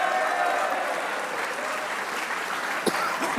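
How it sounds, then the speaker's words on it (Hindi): Sustained applause from a studio audience for a cricket bowler's performance, dense steady clapping close to the microphone with a few sharper claps near the end. "एक बार इस परफॉर्मेंस पे शाहीन के लिए तालियां होनी चाहिए"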